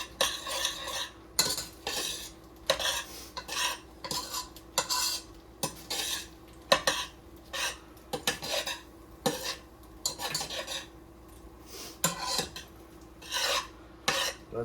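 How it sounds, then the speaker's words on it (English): Pasta for baked mac and cheese being stirred in a pot, a spoon scraping and rasping against the metal in a steady rhythm of repeated strokes, close and fairly loud, with no voices. "Keep stirring this."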